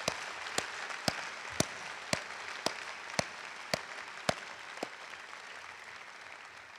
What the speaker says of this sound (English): let's give them a rousing applause.